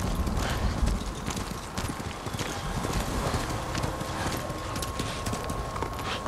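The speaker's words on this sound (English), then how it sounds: "A horse." Horse hooves clip-clop in a steady trotting rhythm on ice in Ghost of Tsushima, fairly quiet against a busy background of ambient game noise.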